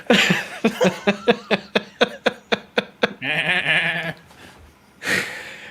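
A person imitates a sheep, giving a rapid series of about a dozen short, stuttering bleat pulses, then a longer drawn-out nasal bleat and a final shorter one, loud and close.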